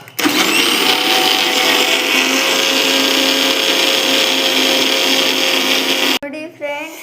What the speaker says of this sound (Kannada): ಇವಾಗ ಸ್ಟಾರ್ಟ್ ಮಾಡ್ತೀನಿ ಮಿಕ್ಸಿನ